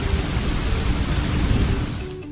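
Monsoon rain pours down in Lahore, a loud steady hiss of heavy rainfall that holds even through the clip and eases slightly at the end, with no voices.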